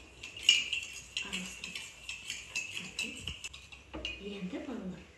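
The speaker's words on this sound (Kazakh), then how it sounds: "Енді араластырамыз қасық." A metal spoon stirs sugar water in a glass, giving quick bright clinks and tinkling scrapes against the sides, faint and close, with a voice talking briefly between them.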